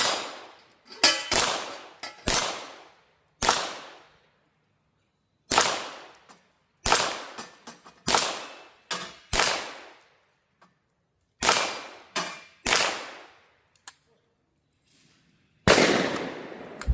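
A Ruger 22 Charger pistol fires .22LR rounds at targets outdoors. About a dozen sharp, close cracks come in uneven bursts with quiet gaps between them, and each shot rings off briefly.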